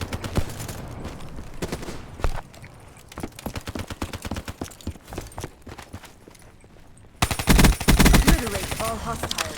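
Black Ops 3 pistol gunfire in a video game: rapid, crisp shots in quick bursts, with a louder, denser volley near the end over faint game ambience.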